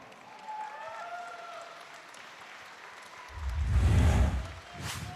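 A crowd claps and cheers for both fighters after an armbar submission at a fight event, the applause swelling into a loud burst midway and then easing, heard at a distance in a large hall.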